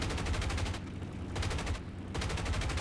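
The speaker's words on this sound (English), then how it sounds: "So this new sound of the 50 cals" Rapid bursts of .50 cal machine-gun fire from an A-26B-50 Invader in War Thunder, loud and close, coming in long stuttering strings separated by short pauses, no voices.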